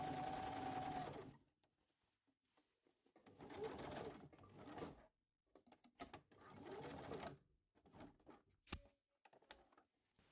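Sewing machine running in stitching bursts around a trouser leg hem, close and clear, with pauses between runs and a few faint clicks.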